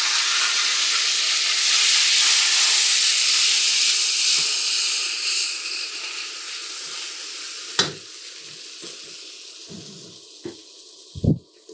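Ginger and green chilli hit hot oil in a pan, giving a loud, steady hissing sizzle that fades over several seconds, followed by a few scraping stirs and clanks of a spoon.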